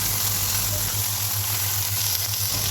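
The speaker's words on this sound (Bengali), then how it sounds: "এরপর এটা নাড়াচাড়া করে হালকা যখন ফ্রাই হয়ে আসবে" Food fries in a pan while it is stirred, a steady soft sizzle with a faint low hum underneath, no talking.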